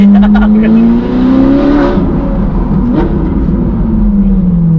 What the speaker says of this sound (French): la sonorité de cette voiture